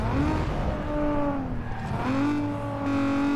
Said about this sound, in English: listen to that engine. That engine sounds delicious.